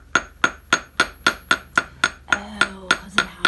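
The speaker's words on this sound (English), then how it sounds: "You're hitting the same exact spot with a different part of the hammer each time." A hammer strikes metal repeatedly while the end is being curled, about a dozen sharp, evenly spaced ringing blows up close, with a faint metallic hum lingering between the later strikes.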